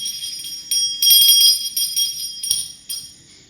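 A small bell jingles in short irregular bursts as Julie the dog plays with it, bright tinkling rattles close by with brief pauses between shakes.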